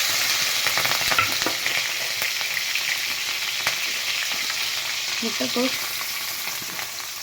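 Curry leaves and green chillies spit and crackle in hot oil in a pan, a dense, even sizzle running throughout with faint scraping near the end and no talking.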